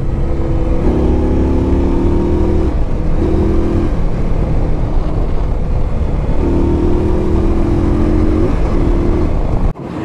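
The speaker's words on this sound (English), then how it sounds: "Then you start to hear that rumble." A 2016 Indian Scout Sixty motorcycle engine rumbles loudly and steadily up close, its pitch climbing in a few rising sweeps as it accelerates, with wind noise throughout.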